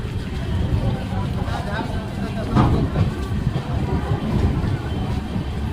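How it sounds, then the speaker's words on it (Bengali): The 13009 Dun Express pulls out of Sasaram Junction with a steady, loud rolling rumble heard from inside the train. Voices murmur faintly beneath it. "সাসারাম জংশন আমাদের ছেড়ে দিল"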